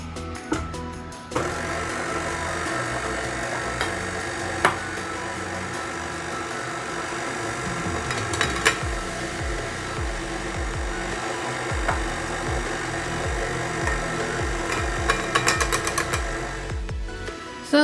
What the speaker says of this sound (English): Now I changed my whisk to a paddle, and now I'm going to add the dried ingredients a little at a time.